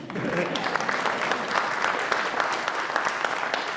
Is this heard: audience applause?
yes